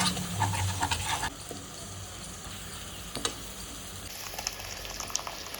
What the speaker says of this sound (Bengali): ওই সাদা তেল যেটা ছিল ওটার মধ্যে দিয়ে দিয়েছি পেঁয়াজ কুচি, আদা বাটা, জিরে বাটা, লঙ্কা বাটা একসঙ্গে।